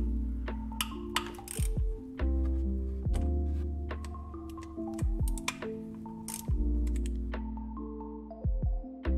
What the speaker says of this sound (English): Now we just have the lovely, arduous process of taking every single one of these bolts out.